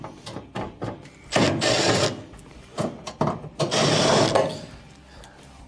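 Two Phillips screws are backed out of the terminal cover on the bottom of a range/oven, giving bursts of ratcheting, grinding screwdriver turns separated by short pauses, close up and fairly loud.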